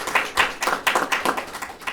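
A small group applauds the first class of post-9/11 veterans at a program launch, a handful of close, uneven claps rising and falling in quick bursts.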